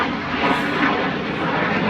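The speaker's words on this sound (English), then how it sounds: "here comes the jet." A jet aircraft passing overhead, a loud sustained broadband roar holding steady throughout with no speech.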